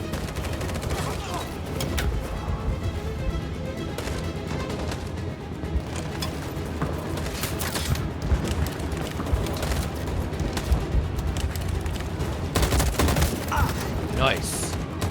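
Sustained suppressing gunfire rages through a firefight in Detroit: Become Human, dense bursts and automatic volleys running continuously and loudly, with voices calling out over the shooting.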